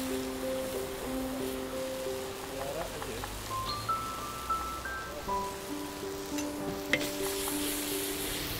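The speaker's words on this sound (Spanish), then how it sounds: "Una vez sofrita un poquito la seta y la alcachofa, añadimos el tomate y dejamos reducir" Tomato simmering and reducing in a pan with sautéed mushroom and artichoke for a mountain paella, a soft continuous sizzle and bubble under steady background music, with no voices.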